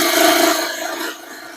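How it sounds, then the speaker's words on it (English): A lathe tool makes a parting cut into a spinning wooden candlestick blank, giving a close, loud, continuous scraping rasp that fades slightly toward the end with no talk. "We're going to start with a parting cut"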